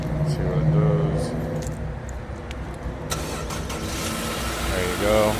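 A Nissan Sentra engine cranking after a jump start from a booster box and catching, then running at a steady idle, with people talking over the engine noise throughout.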